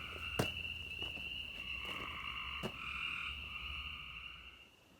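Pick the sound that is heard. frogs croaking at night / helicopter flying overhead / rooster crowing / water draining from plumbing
frogs croaking at night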